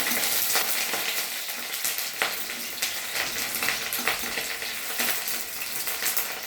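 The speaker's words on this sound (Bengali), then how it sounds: "দিয়ে দিলাম পেঁয়াজ বাটা" Onion paste fries in mustard oil, a loud, constant close sizzle with repeated scraping stirs through it and no voices.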